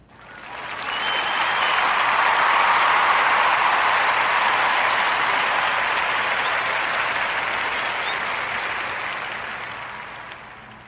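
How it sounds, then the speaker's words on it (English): An audience gives a sustained round of applause for a barbershop, dense clapping swelling quickly, holding steady for several seconds, then slowly tapering off. "let's give a Warm Narrative podcast round of applause for Arnett's Barbershop"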